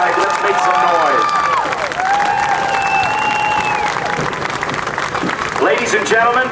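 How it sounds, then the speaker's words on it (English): An outdoor crowd at an air show claps and cheers, with scattered shouts and whistles rising over steady applause; a few loud voices call out near the end. "I want you to give him a big round of applause."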